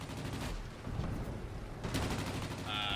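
Sustained rapid machine gun fire from World of Warplanes, a World War II-era aircraft combat game, rattling continuously over engine drone, with a brief burst of louder firing toward the end.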